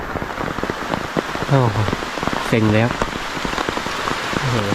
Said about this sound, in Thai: วันนี้ฝนตกเฉยครับ มาเมื่อไหร่ฝนตกครับผม